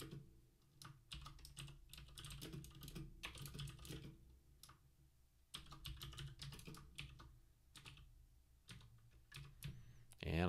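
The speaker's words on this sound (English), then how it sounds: "And I can't even type Phantom right" Rapid bursts of typing on a Mac computer keyboard, close and crisp, with short pauses between runs of keystrokes and no talk over them.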